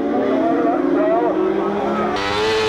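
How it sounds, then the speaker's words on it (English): Supersport 600 racing motorcycles scream along a road race course in Skerries. Their high-revving engines whine and shift pitch loudly and continuously, with a commentator talking over them. "On the grid for the Lost Riders Supersport 600, Martin Finnegan on bike 45's in pole positi"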